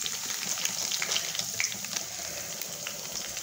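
Spices fry in a pan over low heat for pav bhaji, a continuous close sizzle with a watery, bubbling texture and scattered small crackles, no voices.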